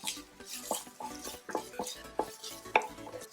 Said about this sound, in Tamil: இந்த இஞ்சி பூண்டு வாட போகிற வரைக்கும் நல்லா வதக்கிடலாம்.